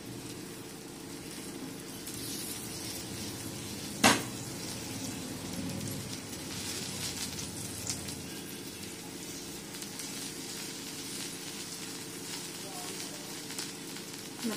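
Drumstick pods sizzle in hot oil in a pan, a steady soft crackle that runs throughout. One sharp metallic clink stands out partway through, and a voice speaks faintly at times.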